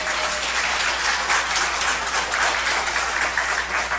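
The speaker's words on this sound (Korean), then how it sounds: "우리 큰 박수로" Applause during a Sunday church service, a steady, dense clapping from a large congregation that fills the whole span at an even, fairly loud level with no talk over it.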